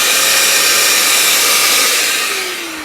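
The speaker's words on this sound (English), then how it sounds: "It does have some noise, but nowhere near the noise of the other sander." SurfPrep 5-inch random orbit sander running, a steady close whirring hum that holds level and then begins to wind down at the end.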